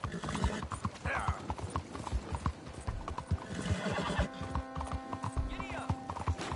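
Horse in Red Dead Redemption 2 galloping with steady, close clip-clop hoofbeats throughout, joined by a clear whinny near the end, with a rider's voice shouting over the gallop.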